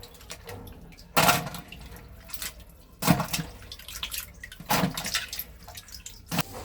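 Chopped cauliflower and new potatoes being rinsed under running water in a home kitchen, with several louder splashing bursts of water and handling over a quiet, steady trickle, close by.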